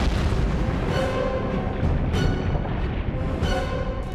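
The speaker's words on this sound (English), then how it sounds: "You can hear cracks, explosions." A volcanic eruption roars steadily, broken by sharp cracks and heavy booming explosions at irregular intervals.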